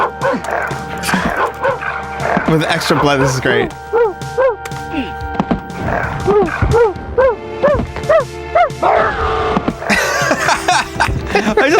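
In the dog mode of Rise of the Triad, loud, close game dog barks and yips repeat in quick bursts, mixed with thuds and someone talking over them.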